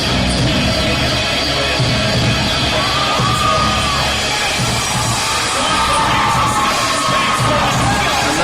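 A huge crowd at an amateur fight debut roars and cheers continuously, with shouts and whoops rising over a dense, loud wall of noise.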